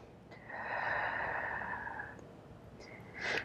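Someone breathes deeply during a gentle Pilates calf stretch, with one long, airy exhale lasting a couple of seconds, then a sharp inhale, close and soft.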